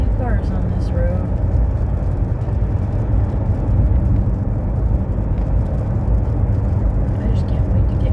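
Traffic on a road during a rainy drive home: a steady, loud roar of cars and tyres on wet tarmac fills the whole stretch with continuous vehicle noise and no break.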